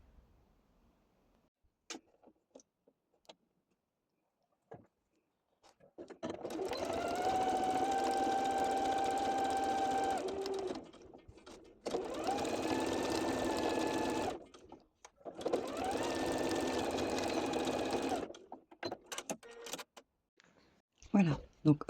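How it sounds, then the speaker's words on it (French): A sewing machine runs a straight stitch along a Christmas table mat in a country-chic cottage style, whirring steadily in three long bursts separated by short pauses, close and clear, with quiet handling sounds between runs. "je vais aller me faire donc un point de couture tout le long"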